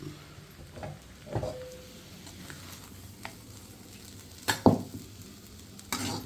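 Snake gourd and Bengal gram curry cooks in a pan, with a quiet low sizzle beneath intermittent stirring scrapes and a few sharp spoon knocks against the pan; nobody talks.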